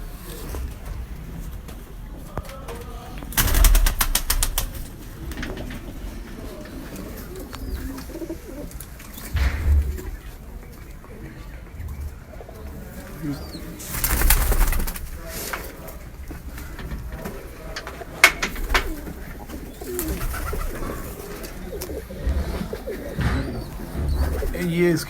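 Kamagar pigeons coo softly in a loft in Lahore, with low, faint coos and scattered wing flutters and thumps, while people talk throughout.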